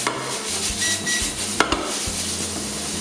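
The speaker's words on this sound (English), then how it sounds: "you basically stir fry" Lamb coratella stir-fried over high heat in a pan, with steady sizzle, a few metal clinks of a utensil scraping and stirring, and a sharper knock near the middle, fairly close and without talk.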